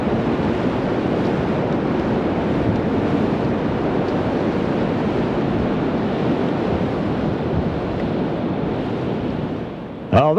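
Steady, cold wind roars across the microphone outdoors for the whole span, loud and constant, with a brief rustle at the very end.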